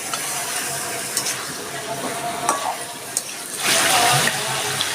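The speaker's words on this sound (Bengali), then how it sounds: "এবার চিকেনটাকে আমি পেঁয়াজের সঙ্গে বেশ 5 মিনিট ধরে একটু ভাজা ভাজা করে নেব।" Chicken pieces frying with onions in a pot for Dhaka-style chicken tehari, a close steady sizzle with scraping stir strokes and a louder surge of frying near the end.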